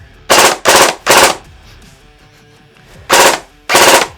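Secutor Aquila VII Black airsoft LMG firing four loud, close bursts of rapid automatic shots, each lasting about a third of a second, separated by short pauses, with no talking.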